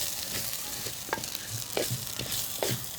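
A spoon scrapes and stirs oats and vegetable soup in a pan in a regular rhythm of knocks and scrapes, with a soft sizzle underneath and no talking.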